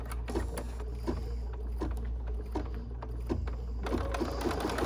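An embroidery machine stitches an ornament, a steady mechanical whirring with quick regular needle ticks running throughout at moderate distance, no voices.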